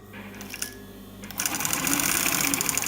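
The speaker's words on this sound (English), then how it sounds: "the thread of choice for an industrial sewing machine" An industrial sewing machine running nylon bonded thread for under stitching, starting after a quiet moment with a low hum, then stitching at a moderate, steady pace with a close, rapid rattle.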